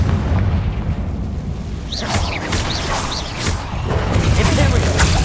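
Confringo fire spell blasts in Hogwarts Legacy on PS5, a series of booming explosive bursts with crackling, whooshing tails over a dense rumbling game soundscape, loud and close with several impacts around the middle of the stretch.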